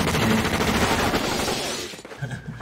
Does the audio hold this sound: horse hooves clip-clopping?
no